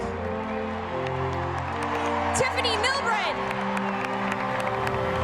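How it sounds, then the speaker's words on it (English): A large stadium crowd at a women's soccer match claps and cheers in a broad, sustained wash, with scattered whoops, while an amplified announcer introduces team members over it. "Please give a round of applause"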